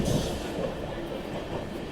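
Amrit Bharat Express train running on rails near the Kanpur Central bypass line, a steady loud rumble of wheels and carriages with faint clatter, heard alone.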